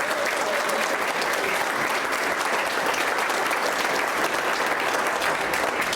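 An audience at a conference panel applauds, steady dense clapping throughout, loud and unbroken from start to finish.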